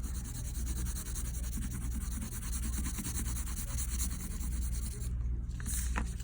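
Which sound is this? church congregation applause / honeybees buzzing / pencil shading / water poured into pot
pencil shading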